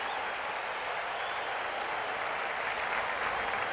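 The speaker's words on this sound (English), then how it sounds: "He is getting a great hand from this crowd." A stadium crowd at a 1981 college football game between Florida and Miami applauds as a player walks off the field, a dense, steady wash of clapping and cheering that holds at an even level throughout.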